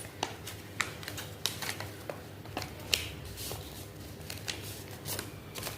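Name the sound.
folding paper airplane wings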